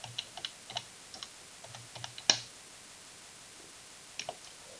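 Typing on a computer keyboard in a quiet room: irregular bursts of light, close clicking keystrokes, with one sharper, louder key strike partway through and a short pause before a final pair of taps.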